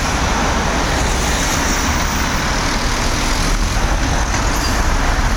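Dense Lisbon city traffic roars steadily close by, with city buses and other road vehicles passing in a loud, continuous wash of engine and tyre noise.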